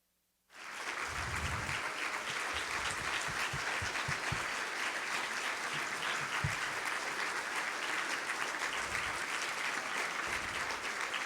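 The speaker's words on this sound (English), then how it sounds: "I hope you could still hear all that applause" An audience applauds after a speech at a transit conference: sustained, dense clapping from a crowd that starts abruptly and holds steady and loud throughout, with a few louder individual claps near the front.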